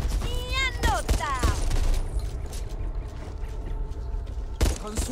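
Gunfire in the zombie shooter Back 4 Blood, loud bursts of shots and booms under a spoken voice, with a dense, continuous din and a final sharp blast near the end.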